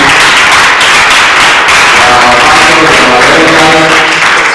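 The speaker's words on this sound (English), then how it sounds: "Let's keep clapping." Loud, sustained clapping and applause from a church congregation at a family forum, a thick continuous roar of hands with faint voices mixed in underneath.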